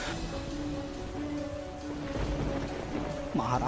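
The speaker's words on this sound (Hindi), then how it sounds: "ये बारिश तो रुकने का नाम ही नहीं ले रहा है" Heavy storm rain falls in a Hindi cartoon, a constant dense hiss of downpour close around, with a low tonal hum and a short swirling effect near the end.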